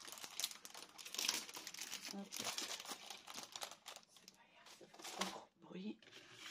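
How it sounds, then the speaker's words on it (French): Paper crinkling and rustling while an album cover is being made from brick-coloured creative paper, with irregular close crumpling bursts running under a person's speech. "Le bruit de papier, c'est pas très agréable."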